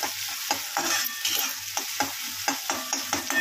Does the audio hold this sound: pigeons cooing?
no